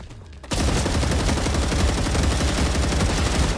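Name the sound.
gunfire from a video game, StarRupture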